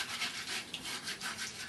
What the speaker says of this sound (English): Take your rag and scrape it off